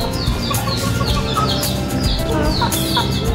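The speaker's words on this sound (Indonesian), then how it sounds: "Kalau ini jenis ayam apa ini Mas? Kalau ini Bantam Cochin." Bantam Cochin chickens cluck and chirp repeatedly in short, high calls over a steady background hum, several birds close by with no talking.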